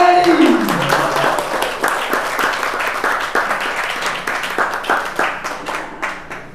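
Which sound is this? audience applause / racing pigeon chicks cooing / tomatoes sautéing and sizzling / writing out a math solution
audience applause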